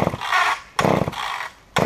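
A Mac 850 chainsaw with a 32-inch bar is pulled on a cold start, giving three short bursts of rasping starter-cord and sputtering sound, close and fairly loud, without catching.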